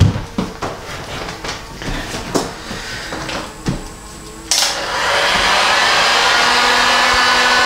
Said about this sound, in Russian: Включая фен